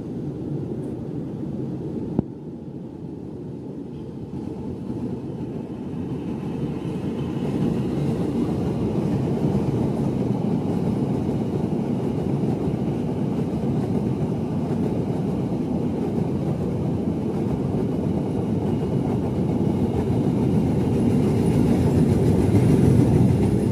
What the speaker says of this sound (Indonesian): kereta api Argo Parahyangan dengan nomor K39 persiapan melintas